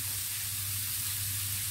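Grated courgette, about 250 grams, sautéing in a pan for a vermicelli vegetable gratin, giving a steady, soft sizzle throughout with a low hum beneath and no talking.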